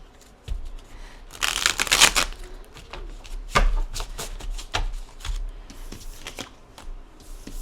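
Tarot cards are shuffled close up in several quick riffling bursts, with soft taps and slaps of the deck between them.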